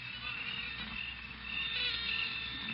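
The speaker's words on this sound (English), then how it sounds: "Can't hear anything but the crickets." Crickets chirp at night in a dense, continuous high trill, faint and steady with no talking.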